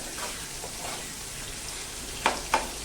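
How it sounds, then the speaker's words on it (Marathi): Sliced onions fry in a pan with salt until browned, a soft steady sizzle with two sharp spatter pops near the end. "मस्तपैकी हा कांदा याच्यामध्ये छान असा चॉकलेटी रंगावरती खमंग तळून घेऊया"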